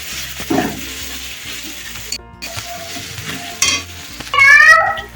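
Ginger and garlic paste sautés with onions in oil for a mutton dish, giving a soft sizzle broken by scraping stirs and pan clatter. A louder, brighter sizzle swells near the end, with no voices.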